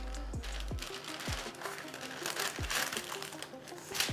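Paper being rolled around a filling with a bamboo sushi mat, giving soft close crinkling and crunching with a few sharp clicks and taps against the mat.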